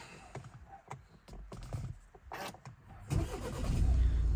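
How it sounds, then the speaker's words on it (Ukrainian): A 2018 Skoda Octavia A7 with a 1.6 diesel engine and automatic gearbox is started with a push button: a few clicks come first, then the engine cranks, catches and settles into a steady, loud close idle. "Отже, спробуємо завести автомобіль."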